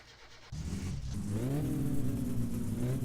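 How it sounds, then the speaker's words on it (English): A car engine in the driving game My Summer Car cranks and catches, then settles into a steady, fairly loud idle with a rising rev, heard alone without talk. "so I can try to start the engine"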